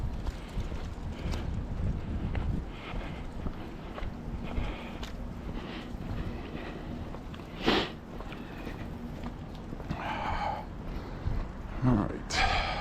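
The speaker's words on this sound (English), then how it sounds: "I got hit with the wind breeze." Wind buffets a microphone during an outdoor walk in Lewiston, Maine, producing a constant low rumbling rush with a few stronger gusts and some faint voices.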